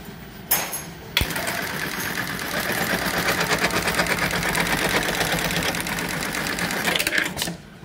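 An industrial sewing machine, the AMS-210EN, stitches multiple belt tabs in a fast, continuous mechanical rattle lasting several seconds, framed by sharp clamp clunks at the start and end, close up.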